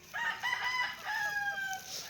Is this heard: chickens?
yes